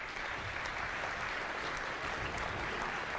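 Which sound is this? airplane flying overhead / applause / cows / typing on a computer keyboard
applause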